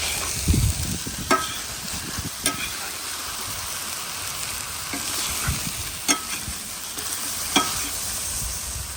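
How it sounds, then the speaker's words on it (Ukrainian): Sliced onions fry in a pan, giving a steady hiss of sizzling oil with occasional clicks and scrapes of a stirring utensil, close and alone with no talking. "І присмажемо до золотистого кольору."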